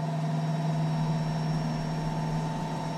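A car engine in a driving video game holds a steady, humming tone with a strong low drone and a few higher harmonics, loud and unbroken for a few seconds with no clear rise in pitch, no talk.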